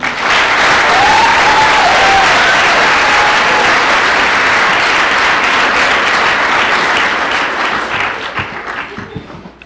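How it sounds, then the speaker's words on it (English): Sustained applause from an audience at an awards ceremony, dense and loud throughout, thinning slightly and fading toward the end. "So if we could all give a nice round of applause for Miss Drain."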